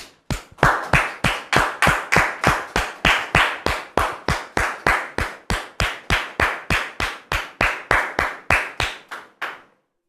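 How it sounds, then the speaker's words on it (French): Audience applause at a family gathering or church-style welcome, heard as a long run of loud, evenly spaced claps in a steady rhythm, close and prominent, with no talking over it. "Est-ce qu'on peut les recevoir sous vos applaudissements, s'il vous plaît?"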